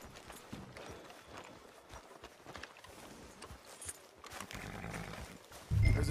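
Horse hooves clip-clop steadily in Red Dead Redemption 2 as a rider travels along a town street, a continuous mid-level rhythm under ambient game noise that swells louder near the end.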